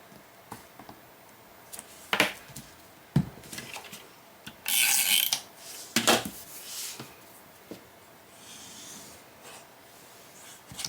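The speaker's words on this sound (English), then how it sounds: "I'm just pushing my corners in." Paper-covered cardboard corners of a Christmas-themed book box cover pressed and rubbed in by hand, giving close, dry scraping and rustling with a few sharper crinkling bursts and soft taps, no talk.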